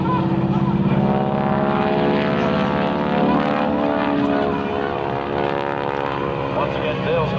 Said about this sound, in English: Watch the landing gear of the aircraft as Dale Snodgrass puts the gear up